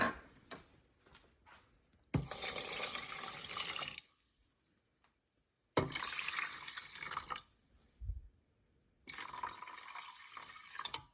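Water pours from a tap in three separate bursts, each a loud rushing splash into the inner pot of an Instant Pot Carb Reduce rice cooker, with short quiet gaps between.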